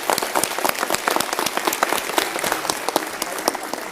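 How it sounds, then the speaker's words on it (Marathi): An audience of men in a hall claps loudly for a women's gathering, a dense, sustained burst of many hands close by without any voices over it. "ह्या सगळ्या वास्तूमधल्या सगळ्या पुरुषांनी आमच्या महिला भगिनींच्या स्वाभिमानासाठी जोरदार टाळ्या वाजवल्या पाहिजेत"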